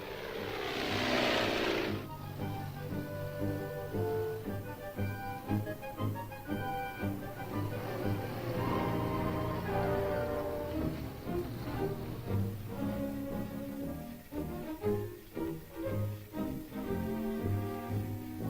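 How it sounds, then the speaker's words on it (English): A propeller-driven liaison plane flies over a border area, its engine droning loudly and continuously, with the pitch and strength rising and falling as it passes. "we exchange reports with liaison planes, which observe the border area from the air"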